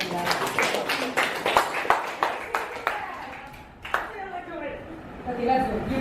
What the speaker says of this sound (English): Clap to them, guys.